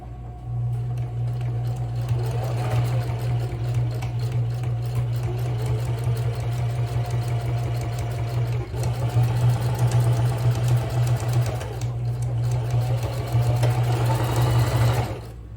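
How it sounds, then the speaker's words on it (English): A sewing machine stitches across a beginner's fabric travel bag, its motor running in a steady, loud, continuous hum for nearly the whole stretch with brief dips in speed. "we are going to take it to the sewing machine, and we are going to sew across here"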